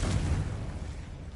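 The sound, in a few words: Confringo explosion spell from video game Hogwarts Legacy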